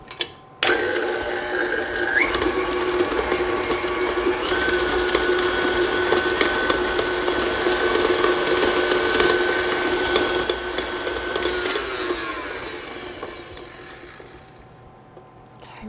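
A stand mixer's motor hums and whirs steadily with a mechanical rattle as its paddle beats cream cheese frosting for carrot cake, starting abruptly and winding down near the end.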